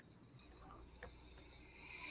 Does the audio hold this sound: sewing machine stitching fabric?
no